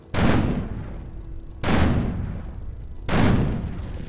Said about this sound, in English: this is the burst fire Hyena with 4 37mm guns